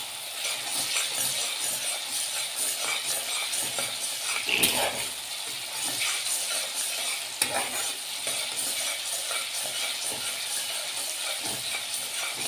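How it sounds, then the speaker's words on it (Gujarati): Tomatoes sizzle and fry in an oil-filled pan, a steady close hiss with occasional spoon stirs and clinks against the metal, no voices. "હવે આપણા ટમેટાં સંતળાઈ ગયા છે"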